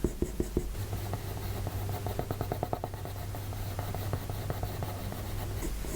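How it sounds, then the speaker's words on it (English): A soft pencil shades a drawing on paper in quick, close back-and-forth strokes, a rhythmic scratchy rasp running steadily for several seconds with no talking. "So now I'm creating even more shape by just shading a little bit more on the side."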